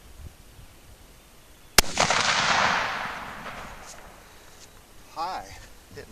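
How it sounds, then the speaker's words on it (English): A single loud, close rifle shot fired with powder-coated cast bullet handloads at a 100-yard target, followed by a long rolling echo and a faint distant report from the target. "I'm gonna take some shots at this 7-inch target at 100 yards."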